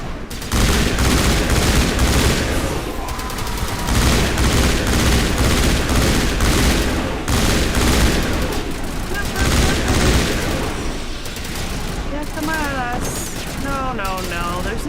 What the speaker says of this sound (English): Get our assault rifle out.